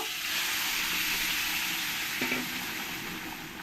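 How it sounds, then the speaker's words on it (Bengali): Vegetables poured into a hot pan over fried ginger paste, a steady moderately loud frying sizzle and hiss that runs unbroken throughout, with a faint clink midway. "আদাটা আমার ভালো করে ফ্রাই করা হয়ে গেছে এবার আমি সবজিটা ঢেলে দেব"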